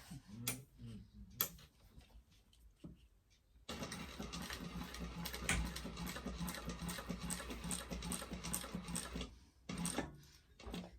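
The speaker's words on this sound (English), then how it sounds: "we're going to go about 1/8 of an inch in and do some more decorative stitching right around that" A walking foot sewing machine runs steadily as it sews decorative stitching around a bag, a rapid mechanical ticking that carries on for about six seconds after a few quiet taps and brief pauses, then stops.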